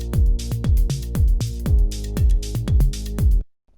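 Electronic dance drum mix with a washy, soft-edged hi-hat over a heavy, steady kick and bass pulse, loud and alone, stopping abruptly near the end.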